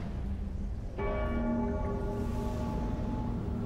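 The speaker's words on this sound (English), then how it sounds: "the bell ringing, what we heard" A bright, resonant bell in the video game Dark Souls III chimes once and rings out with a long sustained tone over a low steady background hum.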